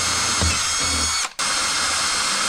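An electric drill bores holes in a part on a Toyota GT86, giving a steady close whine that stops briefly for a moment and then resumes.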